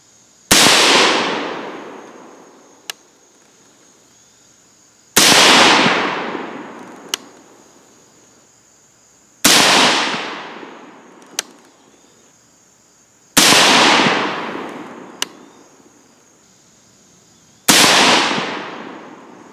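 Five sharp .223 rifle shots firing 65-grain Sierra GameKing bullets, evenly spaced about five seconds apart. Each loud crack decays slowly into a long echo, and a faint brief tap follows about two seconds after each shot.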